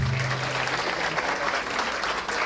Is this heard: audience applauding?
yes